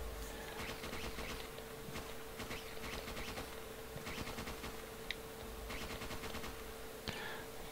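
Rapid gunfire in the survival horror game Parasite Eve 2, repeated quiet bursts of automatic shots over a steady hum, with a couple of sharper single cracks.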